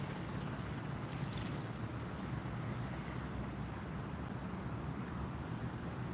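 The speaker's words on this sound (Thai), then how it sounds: "วันนี้เจอเรือด้วยสปีดโบ๊ท" A speedboat passes on a river, its low engine rumble and water wash holding steady at moderate distance, with wind noise over the microphone and no voices.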